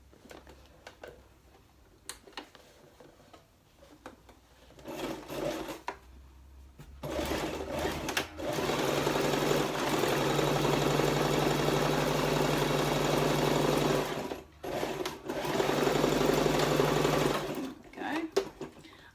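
A sewing machine stitches a seam on a bow, first in brief stop-start bursts, then in a long steady run of close mechanical whirring, pausing once before a final short burst, with a voice speaking early on.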